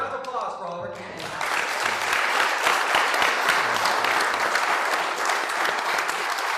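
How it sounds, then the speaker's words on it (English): A short stretch of speech gives way to a dense, even burst of audience applause for candidates at a community forum, which holds steady until the end. "A round of applause for all of our candidates."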